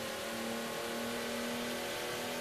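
Constant loud, strained drone of a Renault Clio V6 engine held at high revs during a drag race, a buzzy tone that stays level throughout without speech.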